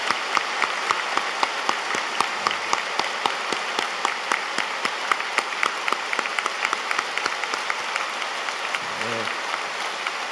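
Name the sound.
congregation applauding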